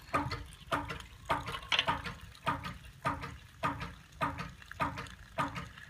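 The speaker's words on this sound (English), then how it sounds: "A lot of water coming out of that 3/8." Water gushes from a 3/8-inch hose fed by a homemade gravity-driven ram pump on an off-grid water supply, arriving in steady rhythmic surges about every half second, close and moderately loud, with no voices.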